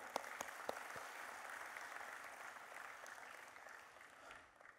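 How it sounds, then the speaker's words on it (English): An audience at a book launch event gives sustained applause that stays even and fairly distant, with a few sharper claps standing out near the start and the sound fading slightly toward the end. "let's have a huge round of applause for Mr. Praful Patel"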